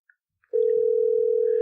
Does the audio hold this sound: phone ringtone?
yes